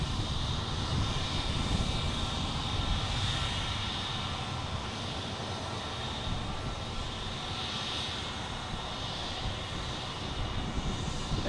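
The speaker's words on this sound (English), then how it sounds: "United Airlines heading to Chicago." A United Airlines Boeing 737-800 bound for Chicago taking off from Boston Logan, its jet engines making a dense, unbroken roar that holds steady and fairly loud throughout, with no voices.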